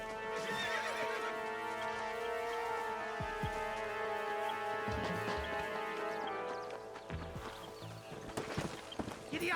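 A horse in the Red Dead Redemption video game gallops with rapid clip-clopping hooves and a loud whinny, set over a dense, continuous game soundtrack with low thuds near the end.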